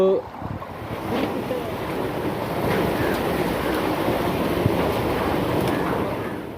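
A bicycle rides through floodwater that covers a road, with a steady wash of water and wind buffeting the microphone throughout. The sound is broad and continuous, with no distinct splashes standing out.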